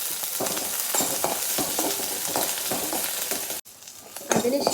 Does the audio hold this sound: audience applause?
no